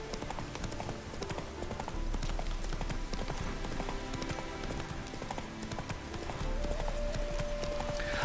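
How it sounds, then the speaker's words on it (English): A horse's hooves clip-clop at a steady trot during a ride in The Witcher 3: Wild Hunt, a continuous rhythmic clatter layered with game ambience and music. "Let's go for a horse ride."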